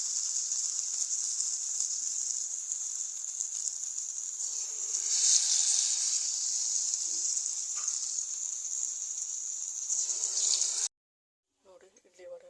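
Urad dal vadas frying in oil over a low gas flame give a steady, bright sizzle with small swells of bubbling. The sound runs continuously, then cuts off abruptly, leaving a few faint sounds at the end.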